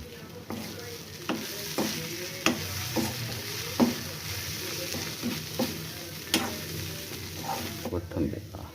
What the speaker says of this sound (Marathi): आता आपण करू याला मिक्स.